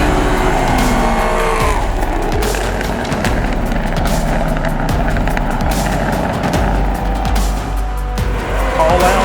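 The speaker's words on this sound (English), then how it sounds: "Instant green start. Charlie thunders off that starting line. And the Pontiac is not going to look back" A Pontiac drag race car launches hard off the starting line, its loud engine roaring with tire noise continuously up close, while a track announcer talks over the din.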